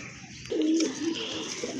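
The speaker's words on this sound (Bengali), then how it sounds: "মাশাআল্লাহ এক জোড়া পাঞ্জা কবুতর আছে ময়না জাকের" Panja pigeons cooing at close range, one clear low throaty coo rising and falling over a soft background hum.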